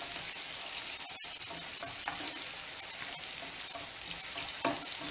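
Soffritto of onion frying in a pan for a tuna and aubergine paccheri, a steady close sizzle with faint stirring scrapes throughout, no talking.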